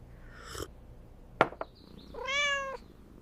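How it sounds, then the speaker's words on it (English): A house cat meows twice, first a short call and later a longer drawn-out meow, with a couple of sharp knocks in between against a quiet room. "I feed my cat."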